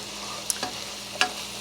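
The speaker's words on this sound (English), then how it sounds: "So I'm now sauteing my onions" Onions sautéing in a pot give off a steady, soft sizzle, with a couple of quick clinks from a spoon stirring and no voices.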